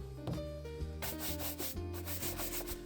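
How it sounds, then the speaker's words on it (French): Restored Doc Martens leather boots are rubbed briskly with a cloth, giving a steady scrubbing sound that grows louder and harsher partway through, with no talking. "Et on frotte."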